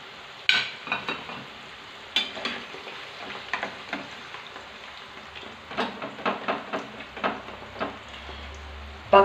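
Potato slices fry in a covered pan of oil, a soft sizzle broken by scattered crackles and pops that come in small clusters, close and fairly quiet.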